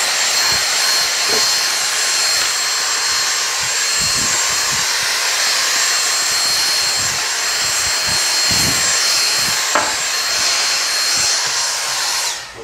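A vacuum cleaner runs continuously, sucking up plastic swarf and dust at a workbench during a Tamiya MB-01 Fiat Abarth 1000 TCR model car build, a loud close whooshing roar with faint knocks as debris is drawn in.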